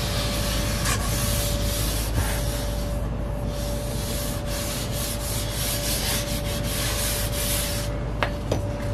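Sanding the finish on rosewood veneer with inlay during furniture restoration, a steady, close rasping rub that continues throughout with a few brief pauses.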